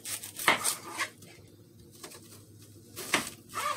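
A knife cutting onion in a home kitchen: a few separate chopping knocks on a board with light clatter between them, close by and moderately loud, with no talking.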